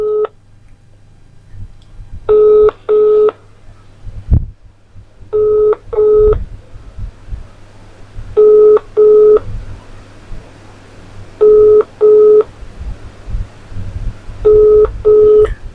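A telephone dials a call in distinct pairs of electronic tones, repeated six times at regular intervals over a low background hum, loud and close with no speech.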